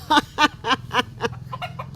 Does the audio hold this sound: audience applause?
no